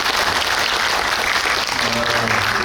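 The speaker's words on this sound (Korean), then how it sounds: "하여튼 다시 한번 박수 부탁드립니다." A theatre audience at a Busan film Q&A with director Kang Je-gyu and actor Cho Jin-woong applauds in dense, continuous clapping, loud and close, without a break.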